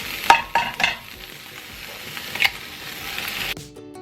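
Food browning in a pan: a soft, steady sizzle with a few sharp scraping stirs near the start and another midway, close and alone without talk.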